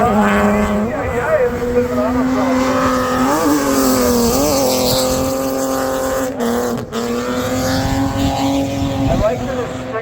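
A black BMW drift car, a former convertible, runs on the track at Suika Circuit, its engine droning loud and steady with shifting pitch and tire noise throughout, a voice talking over it.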